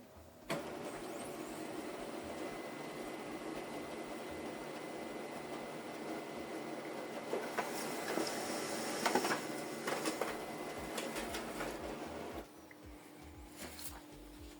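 A Brother HL-L2400 laser printer printing a black and white photo on A4 paper runs with a steady mechanical whir and hum, rising briefly with feeding and clicking sounds before dropping to a quieter idle near the end.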